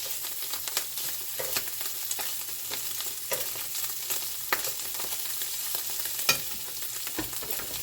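An egg and sausage fry in a pan with a steady, close sizzle. Light scrapes and pokes of a utensil break through the sizzle at irregular moments, and no voices are heard.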